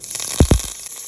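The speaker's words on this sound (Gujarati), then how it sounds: "રાઈ તતરી જાય એટલે થોડીક આપણે હિંગ નાખશું અને લીમડો નાખી દઈશું." Mustard seeds, asafoetida and curry leaves crackle in hot oil as a tempering for a fenugreek dumpling vegetable curry: a steady close hiss with two sharp pops in quick succession.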